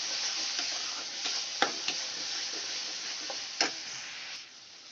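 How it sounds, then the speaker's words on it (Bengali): Tomato spice paste with ginger-garlic paste sautéing in a pan on a low gas flame, a steady soft sizzle with a few light stirring scrapes and clicks, fairly close and alone. "আমি আমার মতো এবার ভালো করে মশলাটা কষিয়ে নেব"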